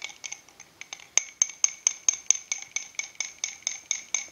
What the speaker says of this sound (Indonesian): Kemudian kita aduk. Aduk hingga dia